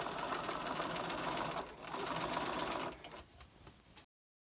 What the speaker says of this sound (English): we're now just going to finish the edge of your sleeve seam with a zigzag